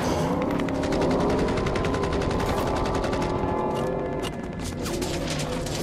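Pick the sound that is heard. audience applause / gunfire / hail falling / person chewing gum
gunfire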